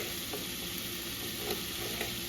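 Ground beef fries in a hot pan for chili, giving a steady, moderate sizzle nearby with a few light stirring clicks and no voices.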